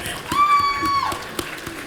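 Audience applause at a video game awards ceremony, a broad wash of clapping across a large hall, joined by a sustained tone and a few louder claps near the end.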